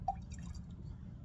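A single small drop of water falls into a glass of Pendleton whiskey, a soft close plink over a quiet low room hum, with no talking.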